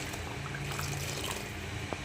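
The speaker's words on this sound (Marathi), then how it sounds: "थोडं पाणी टाकूया परत त्यामध्ये. गरम केलेलंच पाणी टाकायचं." Hot water pours steadily into a pan of Sindhi kadhi with a continuous rushing, splashing sound, close and fairly even throughout.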